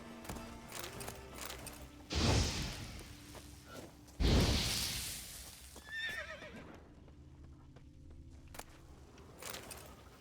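Roach, Geralt's horse in a video game, lets out a couple of loud close neighs with snorting and hoof clops between them, over a low ambient game background.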